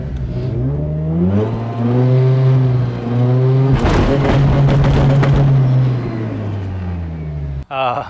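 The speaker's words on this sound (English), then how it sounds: "burnout if you want" A Mazda RX-7 FD revs loudly with a rising and falling engine drone, then a harsher, gritty burst of tyre spin mid-way before the engine settles and cuts off near the end.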